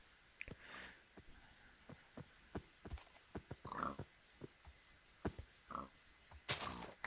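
Pig grunts and oinks in Minecraft, several short snorting bursts scattered among clicks and game effects, fairly quiet overall with a brighter noisy burst near the end.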